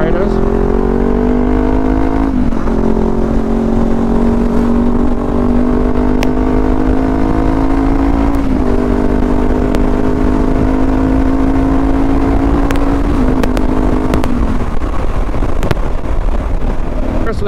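A 1000cc motorcycle ridden at steady speed, its engine droning loud and continuous with pitch rising and dropping at gear changes, wind buffeting the microphone throughout.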